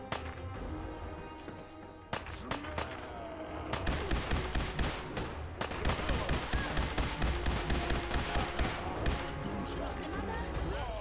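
Gunfire rattles in Fallout 4 as shots are fired from below, first sparse cracks and then dense, rapid bursts repeating steadily for several seconds, with a voice talking over the shooting.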